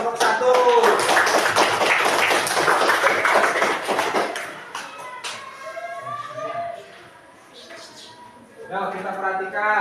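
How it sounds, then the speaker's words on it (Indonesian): A primary-school classroom in Cianjur gives group one a round of applause. Lively clapping fills the first four seconds, then fades into voices and quieter room sounds. "kita kasih tepuk tangan untuk kelompok satu"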